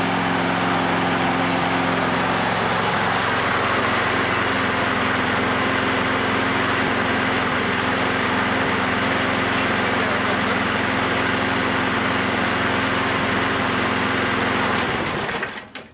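A Toro lawnmower engine needing a new air filter runs at a steady, loud, buzzing drone close by for about fifteen seconds before cutting out.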